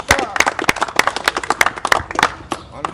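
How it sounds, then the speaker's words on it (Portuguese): Applause for a contestant during a talk show, sharp individual hand claps at close range with an irregular rhythm, mixed with a voice. "E forte aplauso para Tony com a luta duro."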